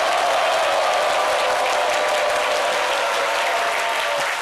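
Audience applause fills the hall, a dense, steady wash of clapping from a large crowd that holds at full strength without pause.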